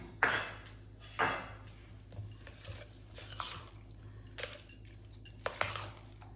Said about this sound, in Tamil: நல்லா மிக்ஸ் பண்ணி விட்டுறலாம்.